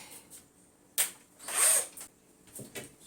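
A screw is worked into the hole of a glass shield on a kitchen cooking exhaust hood to widen it, giving a few short, close scraping and clicking bursts separated by quiet gaps.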